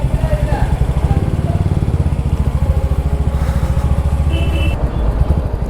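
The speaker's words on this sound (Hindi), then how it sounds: "ऐसा इंजन का साउंड भी बहुत कम हो जाता है यार" A Royal Enfield Hunter 350 motorcycle engine runs close by with a steady, loud, rhythmic single-cylinder thump throughout.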